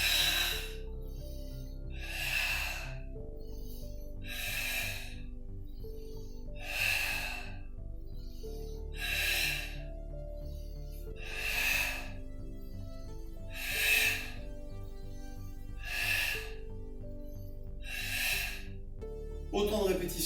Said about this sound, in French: Souffle, inspire, souffle, inspire.